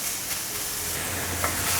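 Enoki mushrooms spread flat and pan-fried in hot oil give off a loud, steady sizzle, with faint scraping of stirring and a brief crackle near the end.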